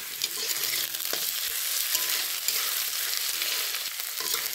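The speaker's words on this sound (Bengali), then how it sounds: "যতক্ষণ না আদা রসুনের কাঁচা গন্ধটা যাচ্ছে ততক্ষণ অবধি ভালো করে ভেজে নেব।" Ground ginger-garlic paste frying in oil in a pan, a continuous close sizzle with repeated scrapes and knocks of a spatula stirring through it, steady and moderately loud with no voices.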